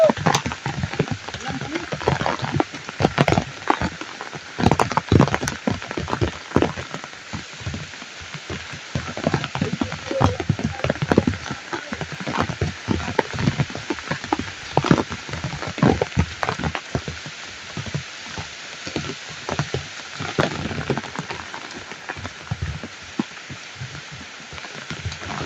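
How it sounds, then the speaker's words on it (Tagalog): Heavy rain pours down in a dense, unbroken roar of drops hammering a surface, with sharp spatters and knocks scattered throughout, loud and close for the whole stretch. "Sobrang lakas ng ulan tol."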